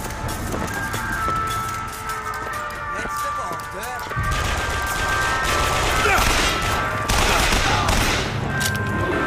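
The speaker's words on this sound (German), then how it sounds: "Ja, dann schießen wir uns immer so durch" Dense fusillade of gunfire in the video game BioShock Infinite, rapid shots crackling over busy game effects and music, intensifying in the second half, with a voice talking intermittently underneath.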